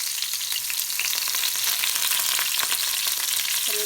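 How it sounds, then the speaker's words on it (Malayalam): Fish frying in a pan coated with curry leaf paste, a steady close crackling sizzle throughout with faint stirring and no voices. "ഞാനൊരു മീൻ പൊരിക്കണത് കാണിച്ചു തരാം നിങ്ങൾക്ക്."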